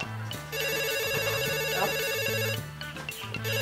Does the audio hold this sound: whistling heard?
no